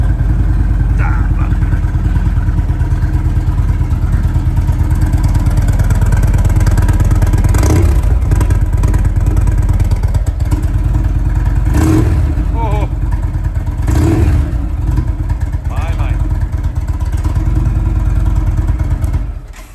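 A motorcycle-type engine cranks over on the starter button and runs, a loud, close mid-pitched rumble with clattering and some revving, while a person talks over it.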